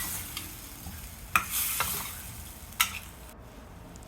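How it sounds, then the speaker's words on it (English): Chicken drumsticks frying in a pan on medium heat with masala, a steady sizzle broken by a few sharp clicks of a utensil stirring against the pan. "Fry for 10 minutes on medium heat."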